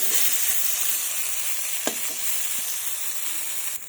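Potatoes and spinach stems frying in a wok, giving a steady close sizzle with a couple of sharp spatula scrapes and clicks partway through, and no talking.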